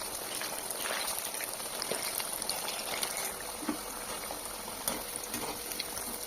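Potato roll samosas dipped in flour batter sizzle in hot oil over low-to-medium heat, a constant crackling hiss with scattered sharper pops, close and steady throughout.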